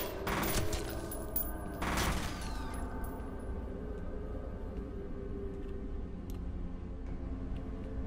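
Rapid bolt-firing weapon in the shooter game F.E.A.R. lets off two loud bursts of shots near the start, followed by a lingering mechanical hum with faint ticks and clicks and no talking.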